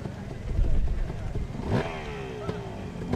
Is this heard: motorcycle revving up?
yes